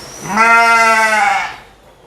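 A Dorper sheep on a farm lets out a single loud, close bleat lasting over a second, with a clear wavering tone that fades into near silence.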